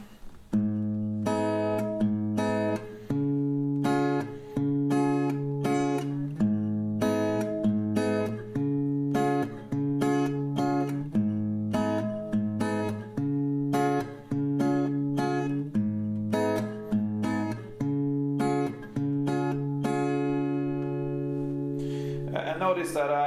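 Acoustic guitar playing a song at standard tempo, alternating bass notes and strummed chords in a steady rhythmic pattern, close and clear, ending on a ringing chord with no talking.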